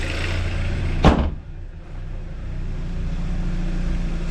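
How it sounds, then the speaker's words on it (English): A Hyundai Santa Fe's hood slams shut once, a single loud nearby thud over the steady idle of the running engine. "I'll close the hood."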